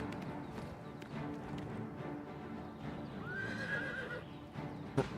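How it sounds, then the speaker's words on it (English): A horse in the Oblivion video game gives a rising, high whinny over a steady run of galloping hoofbeats, with a sharp knock near the end. "Skyrim horse, go."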